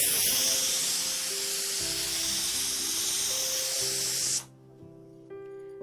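Steam hissing hard and steady from a pressure cooker after mutton has been cooked, a loud continuous spray that cuts off abruptly near the end, leaving a faint kitchen hum.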